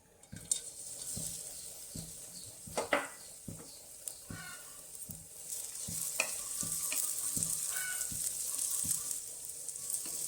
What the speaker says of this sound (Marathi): आता या उरलेल्या तुपामध्ये आपल्याला हा खजूर आहे हा परतळून घेऊ आपण